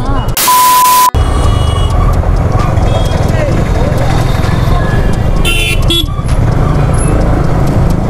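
Busy market road traffic on a crowded shopping day, with a loud car horn blast near the start, shorter honks later and a constant rumble of engines and crowd noise close around; people talk throughout.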